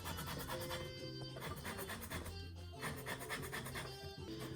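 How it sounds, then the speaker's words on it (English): A fine microplane grater scrapes the peel of a large orange in quick, repeated rasping strokes, faint and close, with no talking. "we're gonna zest this huge orange"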